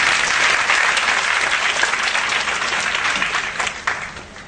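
An audience at a talk claps to encourage a volunteer with a full, continuous burst of applause. It holds steady and loud for several seconds, then tapers slightly at the end, with no voices over it.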